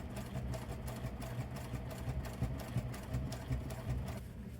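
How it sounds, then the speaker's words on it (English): A sewing machine stitching fabric for a homemade camping dry bag hums close and steady, with a fast, even mechanical patter that keeps going for the whole stretch without speech. "I'm going to run a stitch from this one to that pin."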